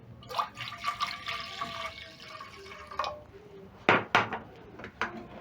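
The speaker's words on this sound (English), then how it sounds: "Once done, I'm going to be adding a little bit more water." Water poured into a pot holding a beetroot mixture for ugali, a steady liquid splash and drip close by, with a few sharp clinks of a utensil against the pot near the end.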